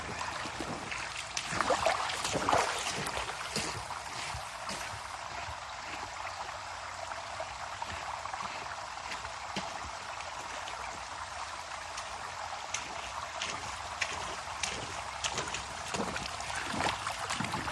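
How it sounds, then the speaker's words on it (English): Gold panning of black sand in river water on the Ohio River in Kentucky, a steady watery swishing and trickling with small splashes throughout, fairly close and continuous, with no talking. "I think I'll take a pinch of it and I'll pan through it."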